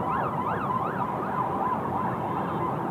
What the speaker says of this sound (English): Oh no, they're fire engines.